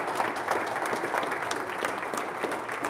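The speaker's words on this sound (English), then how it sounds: "Give him a big round of applause." Steady, dense audience applause fills a hall at a Baltimore talk by Professor Griff, sustained and fairly loud throughout with no pauses or voices above it.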